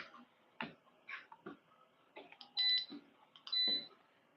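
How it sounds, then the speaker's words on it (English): Two short electronic beeps sound from a treadmill close by, mixed with scattered clicks, thumps and mechanical noises. "It's quite loud, even the beeping"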